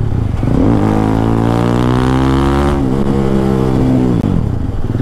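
A TVS Apache RR 310 motorcycle engine drones loud and close as the bike brakes toward a stop. A strong, steady tone holds and shifts in pitch over several seconds, with no talk.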